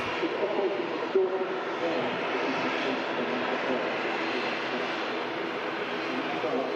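Steady, loud roar of an aircraft engine, a Loganair plane at Manchester Airport, filling the whole stretch as a constant broadband drone with no breaks.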